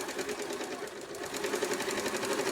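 Electric home sewing machine stitching rough practice fabric, its motor running in a steady continuous whir with rapid rhythmic needle clatter, close and fairly loud throughout with no talking.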